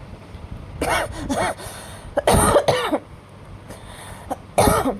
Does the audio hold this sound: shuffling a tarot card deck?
no